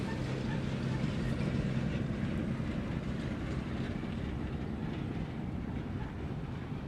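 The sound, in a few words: Qantas airliner jet engines at Honolulu airport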